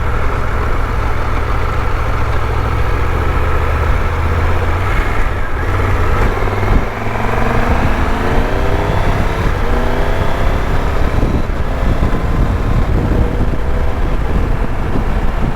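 Triumph Tiger 1200 Rally Explorer motorcycle engine revving through quick-shifter gear changes, its pitch climbing and dropping in repeated steps under constant loud wind rush from riding.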